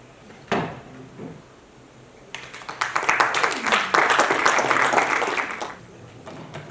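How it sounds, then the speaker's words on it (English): After a dull thump, a small group at a hackathon breaks into applause, clapping steadily for a few seconds before it fades out. "Give a round of applause to the team once more"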